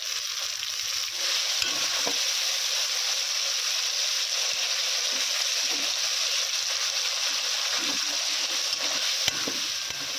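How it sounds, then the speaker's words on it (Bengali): Onions and tomatoes fry in a pan over a village cooking fire, a steady broadband sizzle holding for the whole stretch with a few faint stirring clicks and no talk. "পেঁয়াজ এবং টমেটো হালকা ভাজা হয়ে এসেছে"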